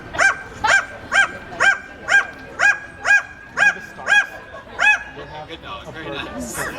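A parrot imitates a dog, giving about nine evenly spaced, loud, harmonic barks in a steady rhythm, followed by softer chatter.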